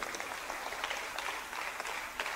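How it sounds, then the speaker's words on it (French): Congregation applauding during a French-language church seminar, a brief, steady patter of many hands clapping at moderate volume, with no voice over it. "Applaudissez pour le Seigneur."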